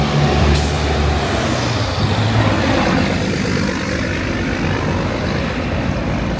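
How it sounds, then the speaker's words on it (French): Heavy trucks pass along a busy street in the Dominican Republic, a loud, continuous low engine rumble and roar filling the whole stretch with no voices. "regardez tous ces camions mon gars, ils font un max de bruit."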